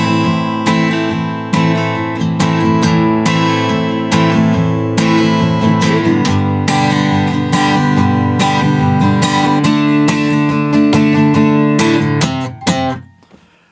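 An acoustic-style guitar plays the verse line of a song, a steady run of clear plucked notes and chords, close and loud, ringing out and fading at the end.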